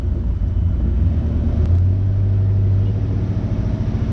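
A 1971 Oldsmobile Cutlass convertible cruising along, with a steady low engine rumble and road noise that holds at an even loudness throughout, with no voices.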